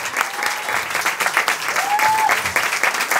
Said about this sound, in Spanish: Brindémosles un fuerte aplauso